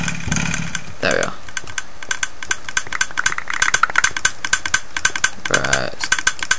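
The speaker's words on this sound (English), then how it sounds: "Stop this annoying clicking sound." Rapid clicking from the Minecraft video game, a string of sharp, evenly spaced ticks running steadily throughout, with two short bursts of low voice-like sound breaking in near the start and end.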